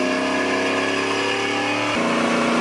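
An LS-swapped Chevy Tahoe with a cam pulls hard under acceleration, a loud rising engine note that suddenly drops as a gear shift lands near the two-second mark, then climbs again.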